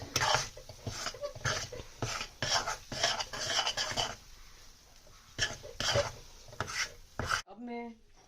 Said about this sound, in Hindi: ये अभी थोड़ी कढ़ाई गर्म है, तो हम इसमें हल्का सा चम्मच घुमाते रहेंगे